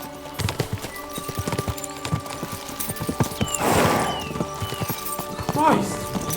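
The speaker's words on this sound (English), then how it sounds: "We should spur the horses on." Horse hooves clip-clop in a quick rhythmic gallop in a medieval video game, with a whinny partway through and character voices talking over the hoofbeats.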